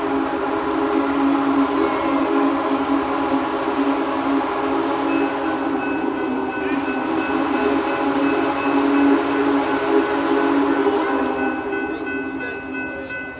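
A Big Boy steam locomotive rumbles past continuously, with a sustained whistle tone sounding over the steady mechanical noise for most of the stretch.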